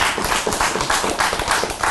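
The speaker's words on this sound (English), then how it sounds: "Give him a round of applause" Brief burst of audience clapping, close and fairly loud, with dense irregular hand claps continuing evenly for a couple of seconds.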